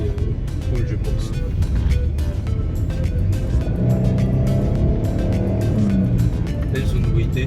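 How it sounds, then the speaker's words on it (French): Porsche Cayenne with a naturally aspirated engine running in a steady, loud, close rumble for the whole stretch, with a voice speaking over it. "Belle sonorité, le moteur atmosphérique qu'elle a."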